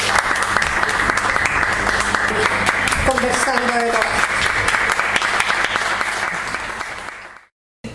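Audience applause at a traditional culture seminar in Chiloé, loud sustained clapping from a full room, with a voice briefly speaking over it before the sound cuts off abruptly near the end.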